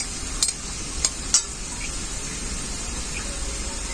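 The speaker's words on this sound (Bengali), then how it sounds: "পেঁয়াজ কিছুটা তুলে রেখে দিয়েছি, আর বাকিটা ভেজে নেব ভালো করে।" Onions frying in a pan for a chicken curry, a steady sizzle running throughout with a few sharp metallic clinks early on, close and fairly loud.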